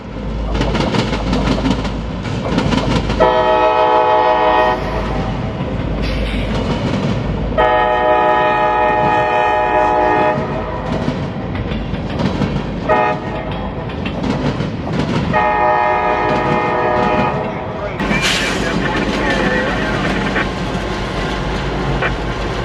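A freight train on a yard job near Jacksonville, Florida rumbles past nearby, its horn sounding in several long blasts over the steady rolling clatter of wheels on the rails.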